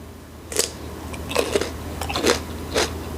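Close crunchy bites and chewing of cucumber dressed with tahini sauce and parsley flakes, with four distinct crisp crunches spaced about a second apart over a quiet room hum.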